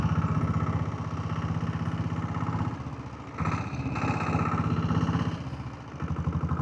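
A diesel Bullet motorcycle engine running on a ride, a steady close low thumping putter with rhythmic pulses that dips briefly and rises again, heard alone without talk.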